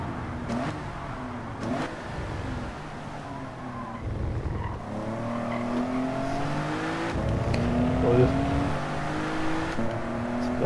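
Mitsubishi GTO race car in Gran Turismo 7 on the Deep Forest circuit, its engine revving and shifting through gears, pitch rising and falling with each shift, loud and continuous throughout with no voices.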